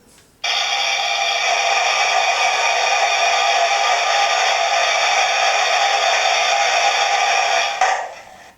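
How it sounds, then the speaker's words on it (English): Steady, loud hiss of the injector on a Hornby TTS sound-fitted Duke of Gloucester steam locomotive model, starting abruptly, holding constant for about seven seconds, then cutting off. "And injector."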